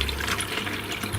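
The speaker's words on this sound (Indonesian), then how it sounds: "Air mengalir dari bagian bambu atas turun ke bambu yang lebih rendah, mengalir ke bawah secara terus-menerus berputar-putar, dan ada suara efek airnya." Water trickles and splashes steadily through an artificial bamboo decorative fountain, spilling from an upper bamboo piece to a lower one and into a flowerpot-like base, a close continuous burble with no voices.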